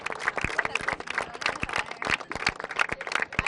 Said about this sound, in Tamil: சிறப்பாக பேசுனீங்க, நல்லா கைத்தட்டல் கொடுக்கலாம்